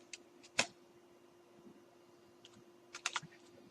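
Sparse, quiet key taps on a computer keyboard: a single sharp press, then a short, faint cluster of clicks a few seconds later over a low steady hum.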